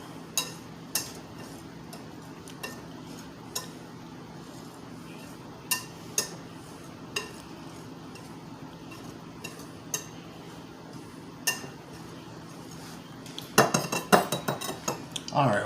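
Pizza dough ingredients for a yeast-free dough are mixed in a bowl, an utensil scraping and tapping the bowl with intermittent clinks over a soft background, then a flurry of rapid clattering at the end.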